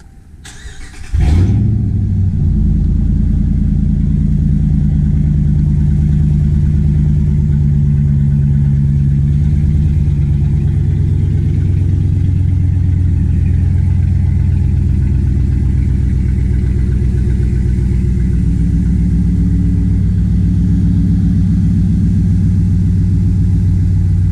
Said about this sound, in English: He's got the old muffler delete, so not gonna rev it too much.